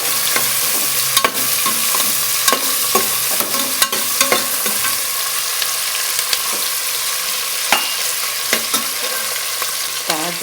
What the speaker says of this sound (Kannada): ಎಲ್ಲ ತರಕಾರಿನೂ ಹಾಕಿ ಈಗ ತೊಳಸ್ತೀನಿ.